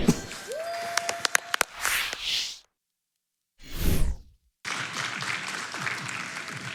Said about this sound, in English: Let's get one more round of applause, can we?